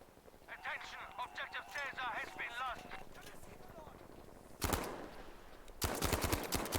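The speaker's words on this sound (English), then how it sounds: "Zeke with some ambitious shots downrange there" Gunfire in a video game match, heard as two loud bursts of shots near the end, following a stretch of excited commentary talk.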